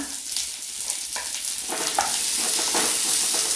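Chopped onion fries in hot oil with ginger and garlic. The sizzle is steady, close and crackling, and it grows louder and denser partway through, with no voices.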